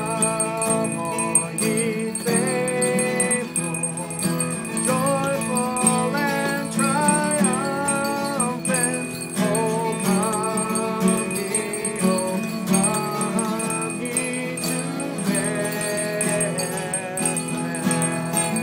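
Guitar music plays continuously with a melodic picked line and chords, alongside faint repeated ringing of a Salvation Army bell, steady throughout.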